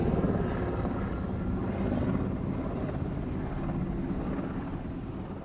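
A United Boeing 777-300 airliner at Sydney Airport gives off a continuous loud, broad jet roar that stays steady, then fades slightly toward the end.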